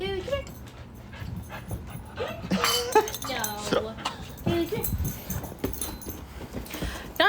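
A small white fluffy dog whimpers and gives high yips close by, and a jingling tag clinks now and then while people talk over and around the thin whining cries.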